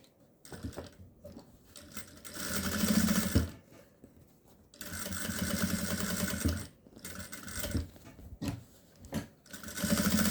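A sewing machine runs in several stitching bursts, loud and close, sewing fabric for a cosmetic pouch. Its motor whirs mechanically between brief pauses, with no talking.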